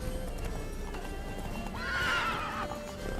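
Horse in The Witcher 3 video game galloping with steady, rapid clip-clop hoofbeats, joined by a loud whinny that rises and falls near the middle, close and clear, with no talk.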